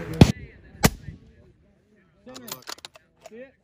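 Rifle shots at a U.S. Army National Guard sniper championship ring out as two sharp, loud cracks about half a second apart, followed by voices talking nearby.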